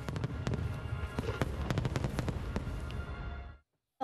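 Nagaoka fireworks bursting over the night sky at a festival, a dense run of sharp cracks and booms layered over a continuous roar, loud and sustained before stopping abruptly.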